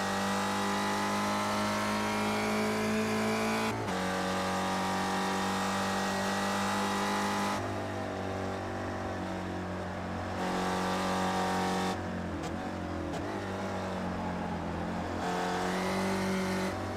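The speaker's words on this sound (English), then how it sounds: "Have to get out of the throttle, but now he's back in it and chasing down the 50 of Mark Thomas." Spec Racer Ford race cars lapping the Nürburgring Nordschleife in a racing video game, engines droning and revving steadily throughout with gear shifts and shifting pitch, loud and continuous with no talking.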